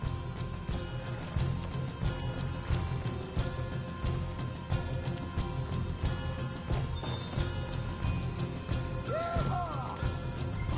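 Horses gallop in Red Dead Redemption 2, a dense drumming of hoofbeats running steadily under wind and movement noise, with a brief whinny near the end.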